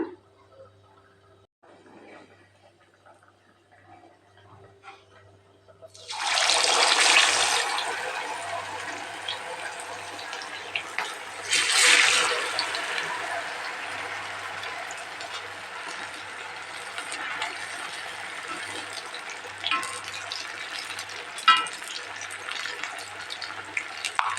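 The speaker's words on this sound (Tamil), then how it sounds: "இப்போது எண்ணெய் நல்லா சூடாயிருச்சுங்க நம்ம மீனை வறுத்துக்கலாங்க" Fish frying in hot oil for a hotel-style Tamil fish fry: after about six quiet seconds a loud, steady broadband sizzle starts and holds, swelling briefly partway through, with no voices over it.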